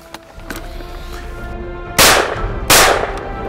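Two sharp, loud shotgun blasts ring out close by in quick succession, about 0.7 seconds apart, during a French trap shooting (balle trappe) competition, over a low steady background murmur.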